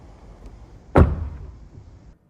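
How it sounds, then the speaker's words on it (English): Door of a Tesla Model 3 Highland shutting with a single solid, well-damped thunk, close by and alone against quiet background, with a short decay after the impact. "Door thunk is of course nicer on the Model 3 Highland."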